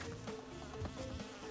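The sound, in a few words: buzzing bees in video game Crash Bandicoot 2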